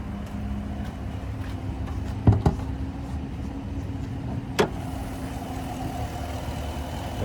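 Steady low rumble of a 2022 Chevrolet Silverado 1500 LTZ's 5.3-litre V8 at idle, constant and moderately loud, with a couple of brief knocks and clicks nearby and no speech.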